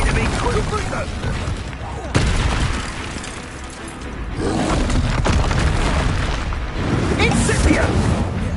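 The Confringo blasting spell from a Harry Potter video game sets off a sharp boom within a loud, continuous wash of combat noise and rumbling blasts.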